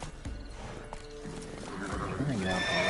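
Horse whinny from The Witcher 3: Wild Hunt, a rising, shaky neigh that grows louder toward the end, with clopping hoof sounds and a person talking over the game audio.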